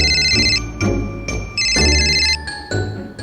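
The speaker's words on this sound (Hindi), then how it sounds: "तो पापा के मेहतारी का फोन आगो" An electronic telephone ring repeats in bright, warbling bursts, close and loud, pausing briefly between each ring.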